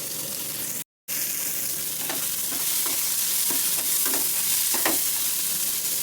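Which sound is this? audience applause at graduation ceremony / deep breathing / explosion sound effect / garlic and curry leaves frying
garlic and curry leaves frying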